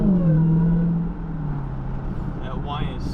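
A Dodge Hellcat Redeye accelerates hard, its supercharger whining above a loud, steady engine drone as the pitch sinks and then climbs again, with a voice briefly heard over it.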